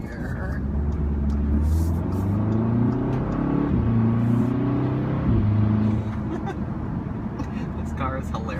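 A 2015 Audi S3 on Blizzak WS80 winter tires, driving along a snowy road with steady engine drone and rising and falling revs as it accelerates and shifts, heard from inside the car.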